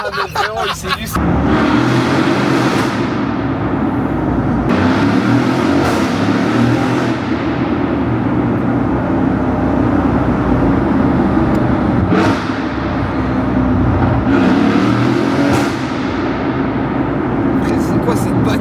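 A car engine revs and accelerates in several surging pulls, loud and near, while people talk over it.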